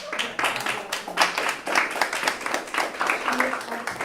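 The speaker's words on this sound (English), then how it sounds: "Applauding, I'm sure." Scattered clapping rises in a city council meeting room, moderately close, with irregular claps over faint room murmur and no clear speech.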